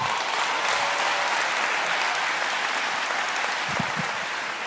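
Sustained audience applause fills a comedy show crowd, a dense steady wash of clapping holding at even loudness for several seconds with no voices over it.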